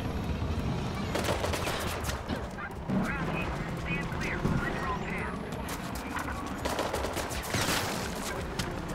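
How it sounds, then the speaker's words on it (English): Gunshots from a drone in Mirror's Edge Catalyst crackle in repeated rapid bursts across the scene, mixed with dense game sound effects and background noise, no speech. "Oh, he's sending shots. Shots fired, shots fired."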